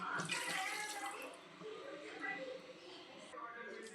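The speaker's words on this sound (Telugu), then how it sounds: "మటన్ మంచిగా కుక్ అవ్వడానికి వాటర్ కూడా పోద్దాం." Water pours into a pan of mutton curd curry in a home kitchen, a steady splashing rush close by that tapers off, while a person talks over it.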